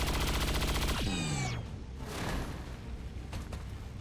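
Soldiers open fire in the XCOM 2 video game: a rapid burst of gunshots rattles out, then cuts off into a swooping tail, followed by scattered fainter shots over a low background bed.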